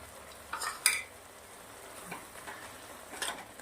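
A spoon scrapes a pan while grated paneer is mixed with green chickpea leaves, giving quiet, scattered scraping strokes over a faint background hiss. No voices are heard.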